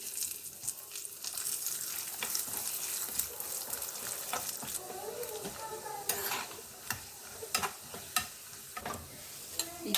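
Carrot halva frying and being stirred in a pan, with a steady close sizzle and repeated sharp scraping clicks of a spoon against the pan, louder toward the end.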